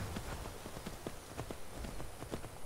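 Horse hooves clip-clopping in a video game, a quick irregular run of soft, fairly faint hoofbeats over a low background hiss, with no voices.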